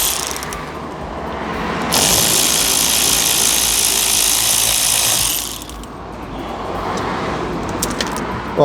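Ratchet clicking while turning Torx bolts under a Ford Grand C-Max Euro 6 during a home service, a steady loud mechanical whirring and clatter that swells in the middle, then continues at a lower level.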